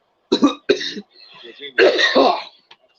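A person coughs and clears their throat several times in quick, harsh bursts, close and loud.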